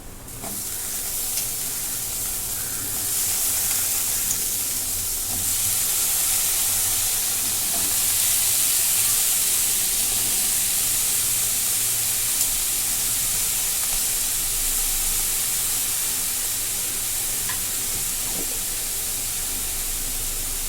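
Chopped raw potatoes sizzling in a hot pan, producing a loud, close, continuous hiss that holds steady for about twenty seconds with no one talking.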